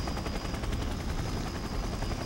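A helicopter in the Resident Evil video game on the GameCube, with loud, steady, rapidly chopping rotor blades filling the brief moment.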